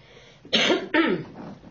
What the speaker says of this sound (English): I just have to clear my throat